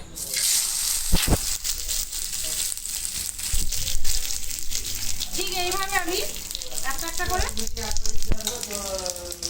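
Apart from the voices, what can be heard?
palm-fruit pitha in banana leaf frying on a griddle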